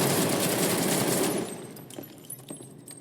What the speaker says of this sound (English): So we're gonna shoot it.